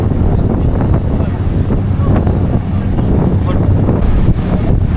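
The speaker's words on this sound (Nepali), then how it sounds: "हावा सरर भने जस्तो भएछ" Strong wind buffets the microphone on a seaside path at the entry point to Gozo island in Malta, a loud continuous rumbling roar with no break.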